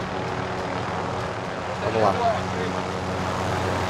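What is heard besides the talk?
helicopter flying in video game Call of Duty Modern Warfare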